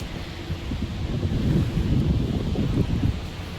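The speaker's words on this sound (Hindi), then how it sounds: "क्या हवा चल रही है" Wind blowing outdoors on a sunny day, a steady low rumbling gust buffeting the microphone, loud and close, swelling slightly in the middle with no voices.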